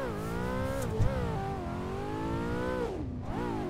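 A 2024 Mustang drifting in the Assetto Corsa racing game, its engine revving loudly with rising and falling pitch and tires squealing, close and continuous throughout.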